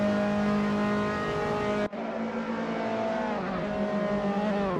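The Dallara F317 formula race car in a racing sim screams at high revs through the final corner at Silverstone, with a brief gear-shift dip before the engine pulls hard again, loud and close with no talk.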